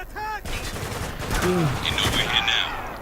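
Bursts of gunfire from the video game Spec Ops: The Line crackle loudly and repeatedly, while someone talks excitedly over the shooting.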